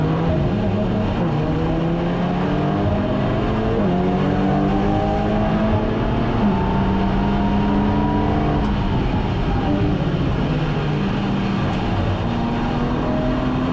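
Race cars, including a VW Golf, roar around the circuit during the Nurburgring 24 Hours, several engines rising and falling in pitch as they accelerate and pass, a continuous dense drone with no talk.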